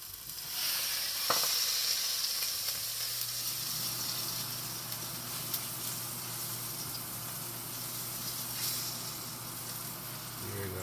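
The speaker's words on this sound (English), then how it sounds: "I have the butter melting." Butter melts in a pan while cooking Jamaican vegetable pasta, giving off a steady, soft sizzle and crackle that holds evenly for several seconds, with a faint low hum underneath.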